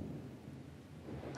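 A thunder and rain sound effect gives a brief low rumble over a soft hiss of falling rain, faint and distant-sounding throughout.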